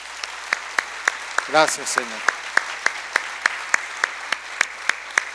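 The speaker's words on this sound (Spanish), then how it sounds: "¿Por qué no le das un aplauso al Señor por eso?" Steady, evenly spaced claps ring out at a church conference and keep a regular beat throughout, while a voice briefly speaks over the start.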